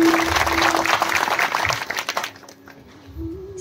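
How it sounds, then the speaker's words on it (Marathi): An audience at a Marathi kirtan claps loudly for a couple of seconds, then the clapping fades out and a single held tone from a musical instrument remains. "टाळी वाजवा की एकदा जोरात वाजवा"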